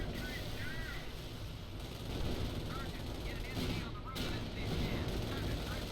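Howitzer artillery shelling in the Company of Heroes video game, a dense, continuous roar of blasts and gunfire that stays loud and steady throughout with no pauses.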